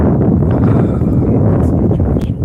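Strong wind buffets the microphone during an outdoor run in Cincinnati, Ohio, a loud, continuous low rumble that drowns out everything else.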